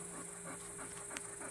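Puppies panting in summer heat in front of a fan, a faint rapid rhythmic breathing under a steady fan hiss and hum.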